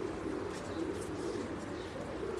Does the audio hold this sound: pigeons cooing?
yes